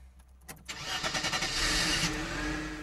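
A car engine cranks and catches after a jump-start cable boost, then settles into a steady, close running sound that carries to the end.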